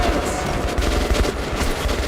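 Sustained, dense gunfire in the Metro video game during a fight with a heavy tank, loud and continuous with no gaps across the short burst.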